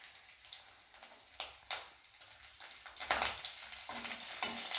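Garlic cloves tempering in hot oil beside a green chilli give a soft, steady sizzle, with sharper crackling bursts and spatters coming in now and then, close by and fairly quiet.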